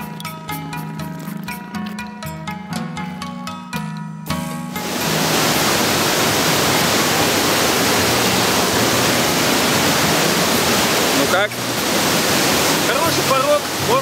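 Rapids and waterfall on the Mekong in Laos near the Khon falls: after a few seconds of music, a loud, dense, continuous rush of churning water fills the rest, close and steady.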